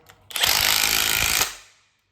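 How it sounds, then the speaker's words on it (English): A power drill drives a bolt into a trolley post during assembly, one loud steady whir lasting about a second before spinning down, heard close up and alone. "Then we're using our drill, but you can also use a 13mm spanner"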